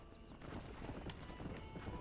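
Horse hooves clip-clop in a steady walking rhythm in the video game Red Dead Redemption, close and moderately loud over a soft background bed.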